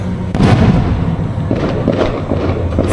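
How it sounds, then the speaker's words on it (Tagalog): Fireworks burst loudly and close by, a dense run of crackling pops and booming explosions that keep going without a break, with no voices over them. "Nakita niyo yung fireworks."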